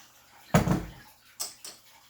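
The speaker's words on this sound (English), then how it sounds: "Something's making a noise. Oh, it's my filter from my fish tank." A home fish tank filter gives a short splashing, gurgling burst of running water, then two briefer, quieter gurgles a moment later, with no voices.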